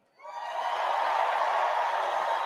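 A large crowd at the Republican National Convention in Milwaukee cheers in support of Israel. The cheer rises suddenly from silence into a loud, sustained roar that holds steady to the end.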